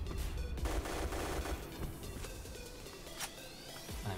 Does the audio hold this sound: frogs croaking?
no